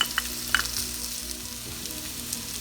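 Chopped onions and potatoes fry together in a pan for home fries, a steady close sizzle with a few sharp crackles and pops, no talking.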